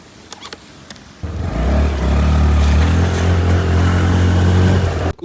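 A courier's scooter in Tbilisi starts up after a few faint clicks, then its engine revs up loudly and holds a steady, close droning whine as it rides for several seconds before cutting off abruptly.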